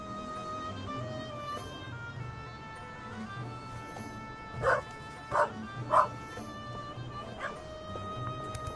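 Dog barking in the video game The Raven Remastered: three short loud barks in quick succession mid-clip, set over steady game background music and ambience.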